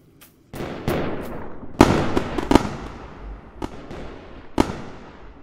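Video game fireworks bursting in an irregular series of sharp bangs and crackles, some louder than others, with no voices.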